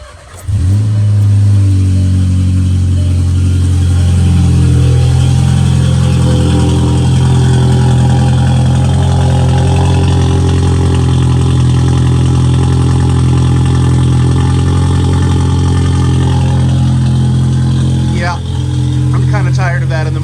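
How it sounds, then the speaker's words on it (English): A Volkswagen Passat 1.8T running with no muffler holds a loud, steady, deep idle drone for the whole stretch, starting abruptly after a brief moment of quiet. "The cold starts are kind of annoying, and I think I'm done with having no muffler"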